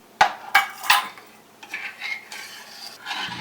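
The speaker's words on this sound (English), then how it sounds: "So you just keep stirring this on a medium heat." A spoon stirs caramel in a pot on a stovetop over medium heat: three sharp metallic scrapes and taps come first, then softer, irregular swishing strokes. No one speaks.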